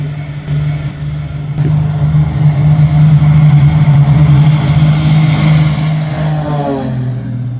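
A small airplane engine drones at full power during the takeoff roll, a loud, steady, close hum that swells and holds without a break.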